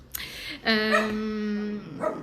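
A dog barks and yips close by, a sharp short bark followed by a longer whining, whimpering tone, with a second brief yelp at the end, in a home where a second dog is being looked after.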